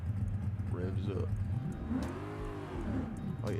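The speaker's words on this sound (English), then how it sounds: "Let's see here if it revs up" Corvette C6 ZR1 engine in the BeamNG driving game revving up, a continuous mid-pitched engine drone with rising and falling pitch sweeps, loud and close, with someone talking over it.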